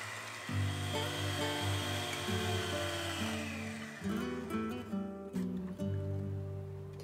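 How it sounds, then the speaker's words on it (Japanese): An electric hand mixer whisks room-temperature eggs with sugar for a chestnut cream shortcake batter, a steady loud motor whine with shifting pitch as the beaters move through the bowl, with no talking. "このまま泡立てていきます。"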